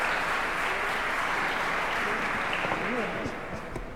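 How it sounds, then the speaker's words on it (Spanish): Audience applause at a technical presentation on SIU-Diaguita and SIU-Wichi modules, a steady dense patter of clapping with voices murmuring underneath, fading slightly at the end. "muchas gracias y un fuerte aplauso para los chicos"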